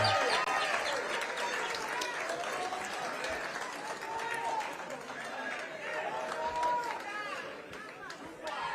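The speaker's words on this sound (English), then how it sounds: "Another round of applause for Baba wa kila mtu" A political rally crowd in Kenya applauds and cheers Raila Odinga as he is invited to the stage, loud continuous clapping mixed with shouting voices and whistles throughout.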